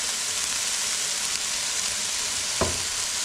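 Thick concentrated mushroom stock stirred into a hot frying pan, heard as a loud, steady sizzle throughout with a single brief scrape of the utensil near the end and no voices.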